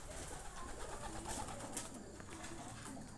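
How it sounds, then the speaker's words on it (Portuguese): Pigeons, around forty of them, gather outside and coo faintly in soft, low bursts under a constant wash of outdoor noise and rustling. "Tem muito pombo lá de fora aí"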